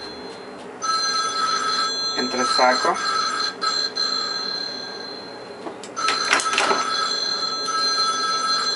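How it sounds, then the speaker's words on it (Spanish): A phone rings with an electronic bell-like trill in two bursts during a haircut, someone speaking over it close by. "Ay, mi teléfono"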